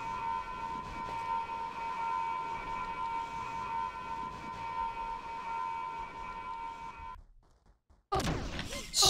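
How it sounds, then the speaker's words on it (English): A warning siren in the 2007 shooter game X-Cop 22 blares a steady, droning alarm tone continuously, then cuts out abruptly, followed by a brief louder burst of noise. "I really could do with stopping the warning systems because it's stupidly loud. I've got music, I've got sirens."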